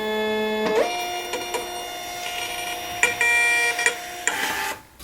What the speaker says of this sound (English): I'll show you guys a quick clip of me printing out a label just so you guys can see how fast this thing actually works